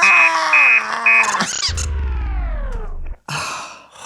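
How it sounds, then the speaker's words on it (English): A loud electronic robot alarm plays: repeated high beeps, a harsh burst, then a long descending synthetic tone with a deep buzz, cutting off and resuming. "Would you like to hear my alarm?"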